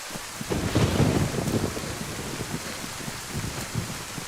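Steady rain with rumbling thunder in the survival game Livonia, a loud low roll swelling early and then easing into a constant wash of rainfall with occasional crackles, no voices.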